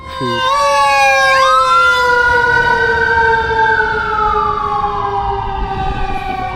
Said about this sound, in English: Definitely miss the sound of the fire engine going places